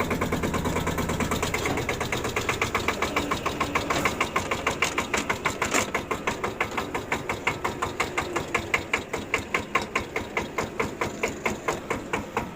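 A Başak 12 tractor engine runs loud and close, starting at idle and then picking up into a fast, steady mechanical chugging as it is throttled, with no talk over it.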